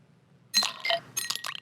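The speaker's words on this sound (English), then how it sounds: "A couple ice cubes for you." A pre-programmed alert plays ice cubes clinking in a glass, a short run of bright, close clinks and tinkles after a moment of quiet.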